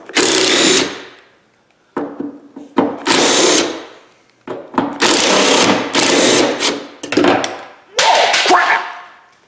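An impact gun zips out the rear hatch latch bolts on a Ford Escape in several loud, close bursts of buzzing hammering, each about a second long, separated by brief quiet gaps.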